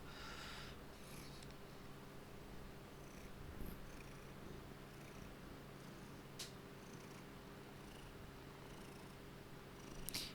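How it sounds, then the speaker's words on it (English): A cat purrs close by in a steady, low continuous rumble that runs throughout, with a few soft rustles and no talking, while someone works through an expert-level Sudoku puzzle. "If you can hear a purring sound, I promise you it's not me."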